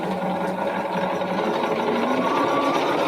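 Sewing machine stitching two straight pieces of fabric for scrub caps, a steady close mechanical whir with a fast needle rhythm running throughout.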